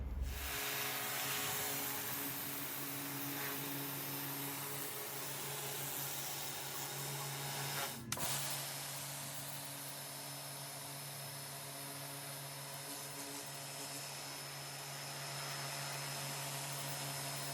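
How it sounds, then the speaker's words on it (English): A Karcher K2 pressure washer fitted with a stone blaster nozzle sprays a patio, giving a loud, steady hiss and motor whine throughout, with a brief knock near the middle and no talking. "the stone blaster, which is this one, helps you reach the corners where the stone cleaner cannot usually reach"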